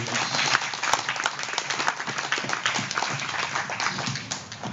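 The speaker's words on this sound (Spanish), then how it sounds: "¿Le damos un aplauso al Señor, hermano?" Applause from a church congregation, continuous and moderately loud throughout, with dense overlapping claps.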